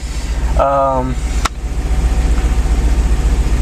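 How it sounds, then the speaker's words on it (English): A Nissan Fairlady Z32 engine idles steadily at around 1,000 RPM, a constant low rumble running close and loud through the whole stretch, with someone speaking briefly near the start. "I just turn the key repetitively until the engine starts."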